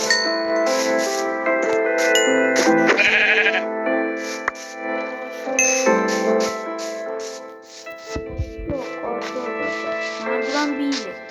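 In the Minecraft video game, a sheep bleats over layered game music and effects, with several short wavering bleats standing out clearly near the front amid the busy tones.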